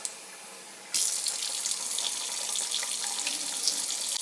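A kitchen tap suddenly opens and water gushes steadily into a container for ciabatta roll dough, a close, bright, constant rush after a brief quiet start.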